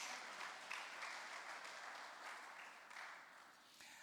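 A church congregation claps together in a continuous faint patter during a Portuguese-language service, with no voices clearly heard.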